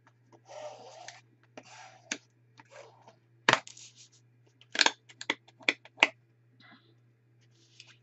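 Fabric is burnished down onto carpet tape by hand in a quiet room, with short rubbing scrapes and sharp taps and clicks in an irregular rhythm, close and fairly faint over a low hum.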